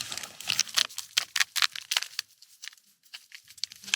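Toilet paper being torn and crumpled on a Mount Vinson expedition in Antarctica gives quiet, rapid bursts of papery rustling and ripping in an irregular rhythm.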